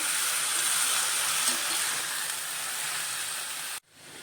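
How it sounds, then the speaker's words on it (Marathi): Fenugreek greens sauté in oil with garlic, chilli and cumin, a soft continuous frying hiss at low level that cuts off abruptly near the end. "भाजी आता तेलामध्ये आपण अशी परतून घेतलेली आहे"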